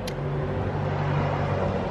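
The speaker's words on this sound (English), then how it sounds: "you've got vehicles going left, right and centre, up and down the road." Road traffic passes near a caravan parked by a busy road, heard as a brief, steady rush of a vehicle going by, fairly close with no talk.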